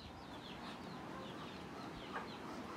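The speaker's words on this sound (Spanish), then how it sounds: "vine a darle comer este, a las gallinas y a los patos" Chickens cluck softly in the distance over steady outdoor background noise, with scattered short calls throughout, ducks also nearby.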